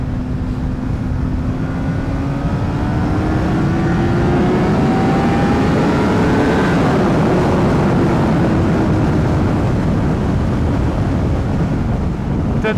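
A 2010 Honda CBR600RR PC40 supersport motorcycle accelerates on the road, its engine note sweeping steadily upward in pitch and then easing, half buried under heavy, constant wind roar.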